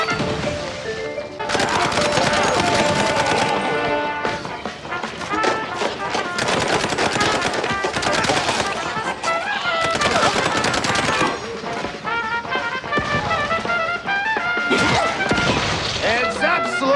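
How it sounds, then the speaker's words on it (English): Gunfire from a shootout in the Mouse P.I. for Hire video game, heard as loud, dense rapid bursts over a continuous musical score, with short pauses between volleys across the whole stretch. "We could keep shooting for an hour and neither of us would win"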